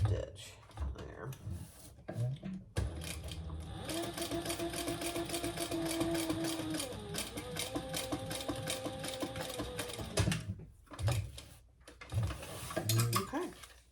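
A sewing machine stitches a crossbody bag in a steady run of several seconds, framed by clicks and handling noises of fabric and tools before and after, with a short extra burst of stitching.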